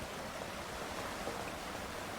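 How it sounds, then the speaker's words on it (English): Steady rushing water from a stream or waterfall in the survival video game Subsistence, a continuous broadband wash at a constant level with no talk over it. "But look at the water, the rushing water."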